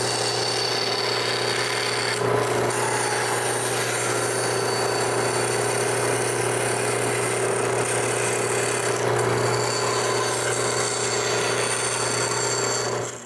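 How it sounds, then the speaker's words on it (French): A power tool whines steadily while cutting out a door in a wooden panel for a homemade wooden bandsaw, running close and loud without pause until it stops at the very end. "Ensuite, je peux couper la porte."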